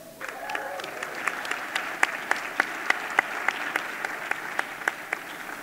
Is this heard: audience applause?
yes